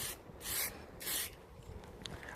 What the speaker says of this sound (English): I'm going to spray onto these in a couple of thin layers